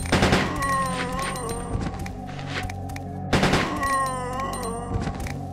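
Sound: gunshots in video game Resident Evil 2

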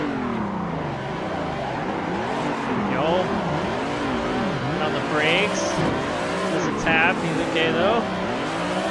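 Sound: Toyota Supra race car engine in Assetto Corsa video game

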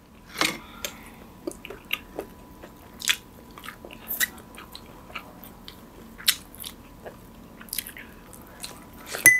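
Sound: chewing herbal chicken soup while eating

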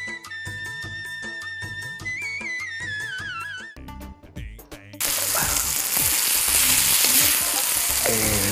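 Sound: dried red chillies frying in oil

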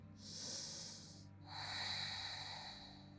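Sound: deep inhale during a vinyasa yoga flow

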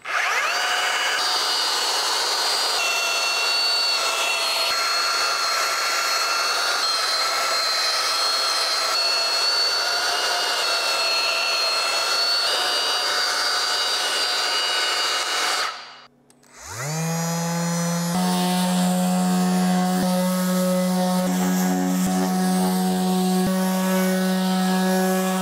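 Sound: orbital sander sanding a wooden crossbeam

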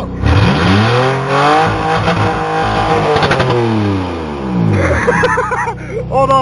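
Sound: car engine revving

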